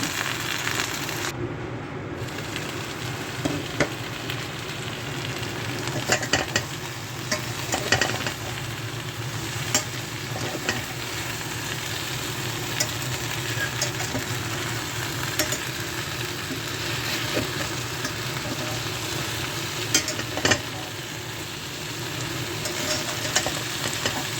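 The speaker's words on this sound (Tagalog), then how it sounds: "haluin lang siya ng dahan-dahan kasi magdidikit" Eggplant frying in oil in a pan while being stirred gently, a dense continuous sizzle with occasional scraping strokes of the utensil, close and steady throughout, no speech.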